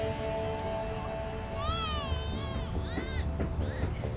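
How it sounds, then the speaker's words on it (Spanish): A cat meowing a few times, wavering and drawn-out cries rising over a steady background hum, moderately faint and slightly distant, with a quieter short call near the end. "se oye como un gato maullando."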